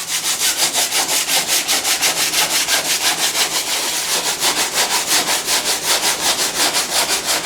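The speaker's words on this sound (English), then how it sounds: "Then it's just a lot of sanding." Rhythmic back-and-forth sanding strokes on an RV-7A aircraft canopy, loud and close, a steady abrasive scratching repeating about twice a second with no voices.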